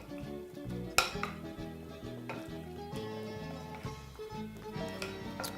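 Pork chops being mixed by hand in a bowl of mustard marinade, soft repeated scraping and clinking strokes in a steady rhythm, fairly quiet with no talking.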